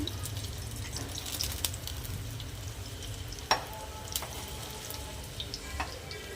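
Food sizzles steadily in hot oil in a small pan, a continuous crackling fry with a few sharp clinks of a utensil against the pan.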